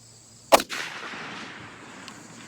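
A single sharp report from a Springfield 1903A1 rifle fired at a range target 200 yards away, loud and close, followed by a brief echoing decay and quiet outdoor ambience.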